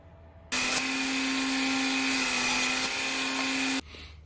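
A belt grinder grinds a knife blade in a single continuous pass of about three seconds, a loud, close abrasive whir with a steady tone that starts and stops abruptly, with quiet room noise before and after.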